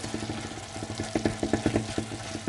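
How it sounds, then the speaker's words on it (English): Coconut flakes fry in a pan for Nigerian coconut candy while being stirred, with a steady low sizzle and rhythmic scraping and tapping of the spoon against the pan, close and with no voices. "So guys, you continue to stir your coconut."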